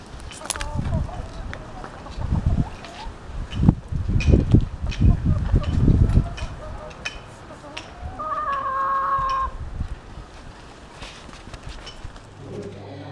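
Chickens cluck and squawk in short bursts at a care facility's henhouse, with a longer crowing call partway through, while people talk nearby.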